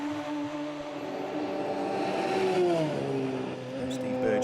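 Radical race cars at speed on the Brands Hatch circuit during an endurance championship race, engines droning and shifting pitch as they pass, steady and fairly loud beneath continuous commentary.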